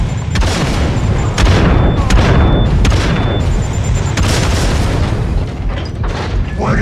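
Grenade blasts in Killing Floor 2, several loud booms and sharp bursts going off in quick succession amid constant gunfire, with voices underneath.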